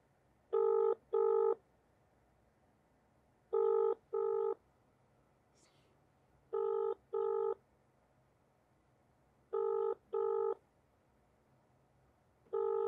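Outgoing telephone call ringing unanswered: paired electronic ring tones repeat about every three seconds, clear and steady against a quiet background.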